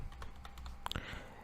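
Computer keyboard keys tapped while filling in a Brazil visa application form online, a quiet run of light clicks with a brief burst of faster typing in the middle.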